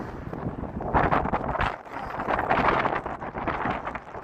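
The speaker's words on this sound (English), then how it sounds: "now it's windy" Wind gusts buffet the microphone outdoors on a Chicago street on a December morning, a steady roaring rumble that swells and eases throughout.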